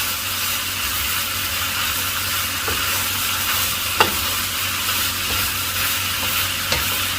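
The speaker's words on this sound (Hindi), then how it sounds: "बस इसको मैं ज़्यादा नहीं पकाऊंगा, जस्ट इसको 2 से 3 मिनट तक जस्ट मिक्स करना है ताकि सब्जियां अच्छी क्रंची रहे।" Vegetables for chicken spring roll filling stir-fried in a pan, a steady close sizzle and hiss running throughout with a few light scrapes of a spatula against the pan.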